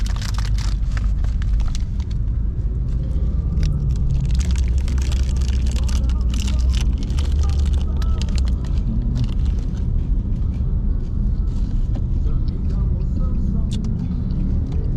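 Steady low rumble of road and engine noise inside a moving Grab ride-hailing car travelling from Mentari Court toward Kuala Lumpur, Malaysia, continuous and fairly loud throughout with faint talk underneath.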